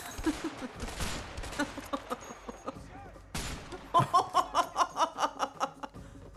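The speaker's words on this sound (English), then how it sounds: "Doesn't matter where I shoot him." Gunshots in the video game A Way Out: a rapid, evenly spaced string of about a dozen loud shots near the end, after quieter game sounds, with someone chuckling and laughing earlier.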